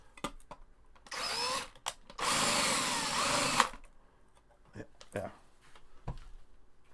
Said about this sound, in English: bigger drill to take off that burr